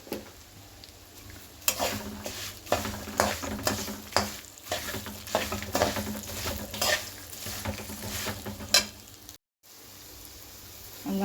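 A tempering for a poha snack with asafoetida crackles in a pan, with repeated scraping stirs of a spatula over a low sizzle. The strokes are close and moderately loud, with a brief gap near the end and no talk.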